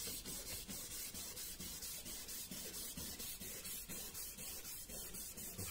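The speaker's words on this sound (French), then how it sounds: "je continue à poncer avec le 600" Steady wet sanding with 600-grit sandpaper and water, a continuous close rasping scrub in a quick regular rhythm, fairly quiet and without speech.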